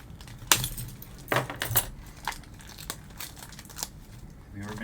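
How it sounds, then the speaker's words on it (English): Keys jangle and rattle against crinkling packaging as a toy box is opened, a few sharp metallic bursts followed by softer handling rustles, close by. "gonna have to use the keys."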